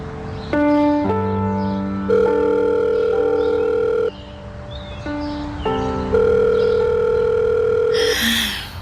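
A telephone rings on the line while the caller waits for someone to answer. Sustained electronic tones shift in pitch in steady blocks, fairly loud and uninterrupted, with no voices.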